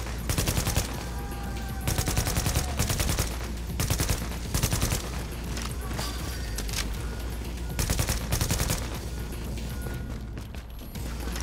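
In Tom Clancy's The Division video game, rapid automatic gunfire rattles in repeated loud bursts at regular intervals over a low rumbling combat backdrop.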